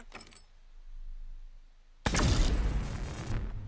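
An EMP grenade in the survival game SCUM goes off with a sudden loud burst, a harsh, noisy blast that lingers for over a second. A brief clatter and quiet hum come before it.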